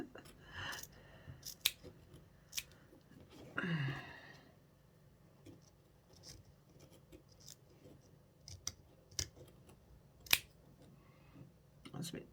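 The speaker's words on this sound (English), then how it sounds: "So just cut out round where you've sewn." Scissors cutting chunky fabric around the sewn brim of a hat, crisp snips in an uneven run with short pauses between them, close and fairly quiet, plus a brief rustle partway through.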